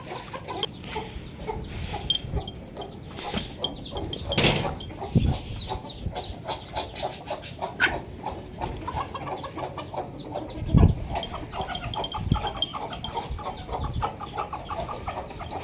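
Several chickens cluck and chatter continuously nearby as they are given feed, with occasional louder squawks and a distant rooster-like call.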